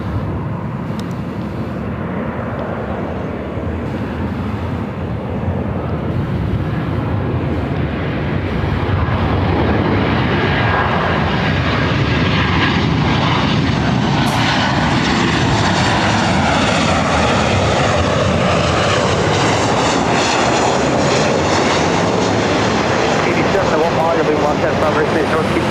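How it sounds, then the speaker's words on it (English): A Southwest Airlines jet departs LAX, its engine roar building from a low rumble into a loud, sustained, rising thrust whine that dominates throughout, with air traffic radio chatter faintly beneath. "Got a departure Southwest 1449"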